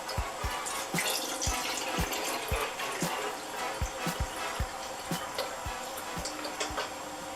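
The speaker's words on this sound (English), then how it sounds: "I will now fill the can up with water" Water pours and splashes into a can, a steady trickle marked by a quick run of close, clicking drips and knocks over a continuous watery hiss.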